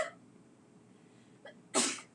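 One sharp, loud sneeze bursts out near the end, preceded by a quick intake of breath, in a quiet room with faint background hiss.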